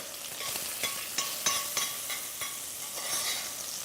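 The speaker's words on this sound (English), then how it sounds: "Bacon's starting to get some golden brown." Bacon sizzles and crackles in a frying pan while being cooked at home, with a steady hiss broken by several sharp spatters and the scrape of stirring.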